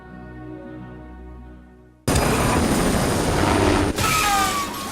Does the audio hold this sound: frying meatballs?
no